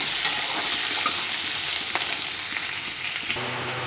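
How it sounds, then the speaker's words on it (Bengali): Chopped onions frying without salt in a pan give a loud, continuous crackling sizzle, with a few light stirring taps along the way. "এবার পেঁয়াজ কুচিগুলো ভেজে নেব নুন ছাড়া"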